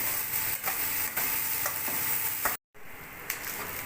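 Sliced onion and bay leaves fry in mustard oil in a wok, giving a continuous loud sizzle with occasional stirring scrapes; the sound cuts out briefly near the end, then resumes.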